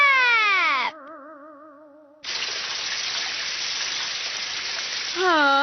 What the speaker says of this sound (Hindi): बारिश रुक ही नहीं रही है।